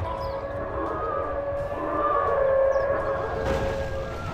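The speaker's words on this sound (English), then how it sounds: "Start a howl. Everyone howling." Wargs howling during a fantasy battle in Third Age: Total War Divide and Conquer, sustained overlapping wailing howls rising and swelling in the middle over a dense battle din.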